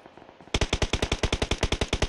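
A long automatic burst of gunfire in the mobile game PUBG Mobile during a squad match: about seventeen rapid, evenly spaced loud shots after a half-second of quiet, with no talking.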